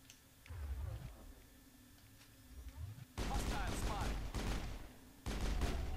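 Mass Effect gunfire in a tense firefight: sharp bursts of shots crackle in clusters over the second half, loud and close, following quieter low rumbling thumps.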